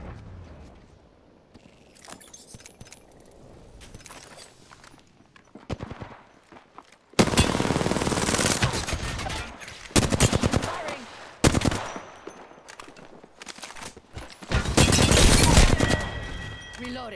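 Gunfire in the Apex Legends video game: scattered quiet shots at first, then loud automatic bursts from about midway, with rapid repeated cracks separated by short pauses and faint footsteps between them.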